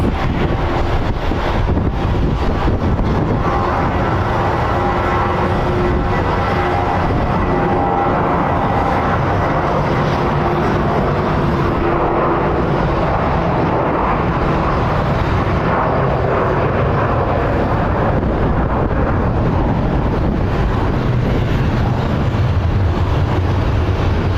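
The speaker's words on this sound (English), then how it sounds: "Let's catch this American A321 taking off" American Airlines Airbus A321 taking off at Phoenix Sky Harbor International Airport, a loud, sustained jet engine roar filling the air, heavily buffeted by wind gusting across the microphone.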